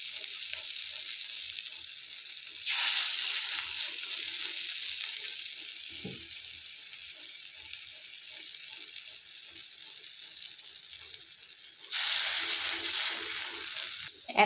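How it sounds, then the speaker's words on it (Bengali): Sesame fritters fry in hot oil in a kadai wok, giving a steady bright sizzle that surges louder as each new batch is dropped in, with soft clinks underneath. "এরকম সাইজ পরপর কড়াইতে দিয়ে দিচ্ছি"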